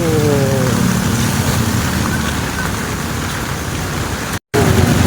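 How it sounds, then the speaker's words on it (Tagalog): Heavy rain during a walk outdoors in Japan, a loud, constant hiss close around, with a voice briefly audible at the start. "Lumakas uli yung ulan."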